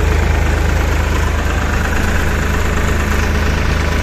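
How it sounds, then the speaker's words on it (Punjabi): A 65 HP or 47 HP tractor hitched to an 8-foot KS super seeder running in a field, its engine a loud, steady low rumble with a fast knocking pulse throughout, close by and without voices. "ਅੱਜ ਟਰਾਇਲ ਲੈਣ ਲੱਗਿਆ ਜੀ ਆ 65 HP ਟਰੈਕਟਰ ਆ ਤੇ ਆ 47 HP ਆ।"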